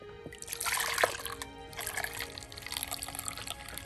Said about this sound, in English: Let's pour the milk.